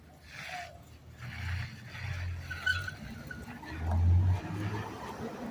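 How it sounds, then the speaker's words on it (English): A car rolling slowly between parking lots, with squeaky brakes giving thin high squeals over a low engine rumble that swells near the end. "I apologize about the squeaky brakes"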